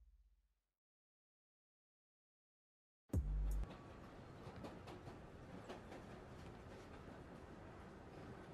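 Subway train ride in Spider-Man Miles Morales on PS4: after a few seconds of silence a loud thump starts the sequence, then a steady rumbling rail clatter with rhythmic clicks continues close by.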